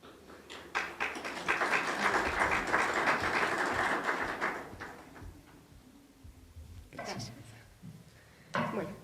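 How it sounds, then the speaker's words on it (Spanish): Conference audience applauding an engineer before her talk, a burst of clapping that swells, holds for a few seconds, then fades to scattered claps before a voice begins. "El aplauso pues para la ingeniera que nos va a hablar del tema que ya mencionamos"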